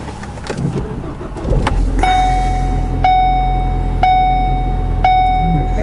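Ford Focus ST on a test drive with a rear suspension noise issue: a steady engine and road drone from inside the car, with four evenly spaced electronic chimes on top and no talking.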